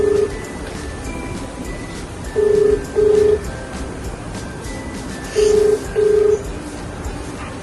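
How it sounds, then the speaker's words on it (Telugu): Telephone dialing a call: four short, evenly pitched keypad tones in two pairs, separated by a pause, over a quiet background hiss. "నేను కాల్ చేసి ఒకసారి తనతో మాట్లాడతాను"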